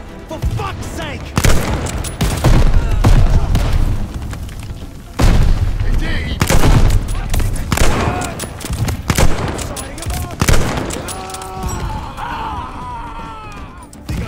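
Heavy gunfire and grenade explosions in Call of Duty: Vanguard at El Alamein, with repeated loud booming blasts and rattling shots hitting close by, mixed with shouted voices and battle clamor throughout.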